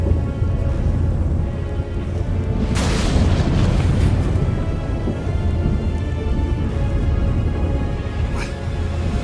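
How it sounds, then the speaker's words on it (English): A thunderstorm in The Witcher 3 rolls on with loud steady rain, and a sharp thunder crack near three seconds trails into a long rumble, followed by a fainter crack near the end. "That a storm?"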